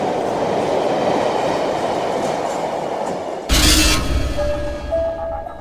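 A train runs steadily on rails in a Hindi radio horror drama, a continuous rumbling clatter of a local carriage that gives way to a brighter burst of rail noise near the end, with no voices.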